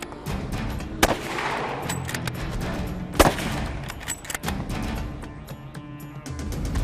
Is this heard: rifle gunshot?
yes